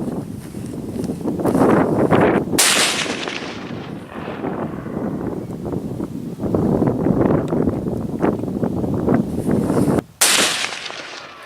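Rifle shots fired outdoors in a field: two sharp loud reports, each followed by a long rolling echo across open ground, with steady wind rumble against the microphone between them.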